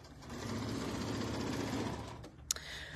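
A sewing machine stitches fabric strips together for a strippy table runner, a steady close whirring run of about two seconds that slows and stops, followed by a sharp click.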